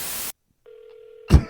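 An outgoing phone call to a Valero gas station: after a burst of noise and a short silence, a single steady ringback tone sounds alone, then cuts off with a dull thump.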